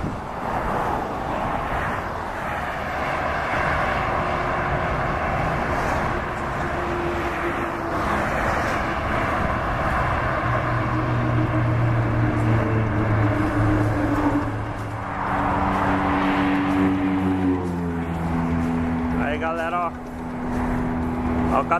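Heavy vehicles roll past on the Anhanguera highway, with one large bus going by among other loud engines, swelling and fading in turn while someone talks excitedly over the traffic.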